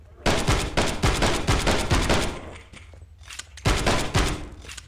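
Rifle fire in the VR shooter Death Horizon: Reloaded, with a loud string of close shots in quick bursts, a short pause, then another burst near the end.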